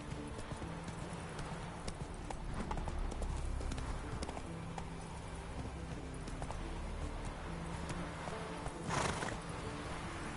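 A horse gallops in a PS4 video game, rhythmic hoofbeats pounding at a steady pace over low game ambience, with a brief louder burst near the end.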